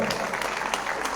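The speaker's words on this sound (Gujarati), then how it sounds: "જોરદાર તાળીઓથી અમારા આ બે નેતાને વધાવો." Steady, full applause from a crowd at a municipal election rally in Halvad, brief and continuous with no pause.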